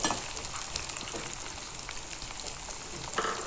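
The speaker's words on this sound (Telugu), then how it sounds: "తిరుమా తేగిపోయింది, ఉల్లిపాయ ముక్కలు వేసేసుకోండి." Onion pieces frying in oil for a tomato curry, a steady close crackling sizzle with faint pops throughout, no voices.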